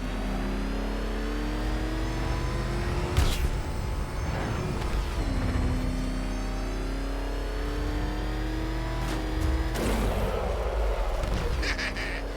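A car in Batman: Arkham Knight pulls away and revs hard, its engine pitch climbing through repeated gear shifts in a loud, close, continuous drive with brief impact noises along the way.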